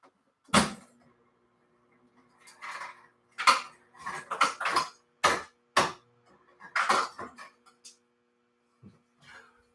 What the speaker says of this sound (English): I'm just going to pop out a couple ice cubes out of my refrigerator door here